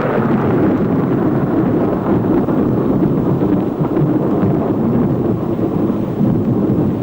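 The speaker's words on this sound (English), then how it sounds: "Seconds later, the blast wave reaches the trenches." An atomic bomb blast wave reaching trenches arrives as a sustained, loud, rumbling roar that stays dense and steady throughout, like rolling thunder with wind buffeting the microphone.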